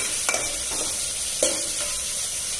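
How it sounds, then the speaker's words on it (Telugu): Onions fry briskly in a pan, a steady dense sizzle with a few scraping stirs of a spoon, close and fairly loud, no voices over it. "ఆనియన్ అయితే బాగా ఫ్రై అవ్వాలి."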